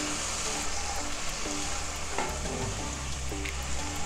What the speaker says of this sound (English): I'm going to nicely saute the green curry paste